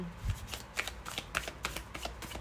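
A tarot deck is shuffled close by, giving a quick run of crisp riffling flicks and soft slaps in a steady rhythm, with no talking over it.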